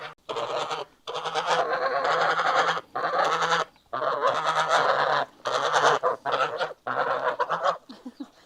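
Farm geese honk loudly and repeatedly in close, raucous bursts with brief pauses between calls, no talking over them.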